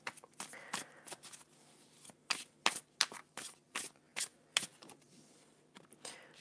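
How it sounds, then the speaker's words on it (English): Oracle cards being shuffled up close, a string of quick riffling bursts with short pauses between them, fairly quiet and with no talking. "Okay, so then shuffle."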